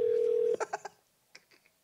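A telephone gives a steady dial tone, then a quick run of four or five button beeps as a number is dialed, followed by a few softer tones. The sounds are close and clear, with no speech over them.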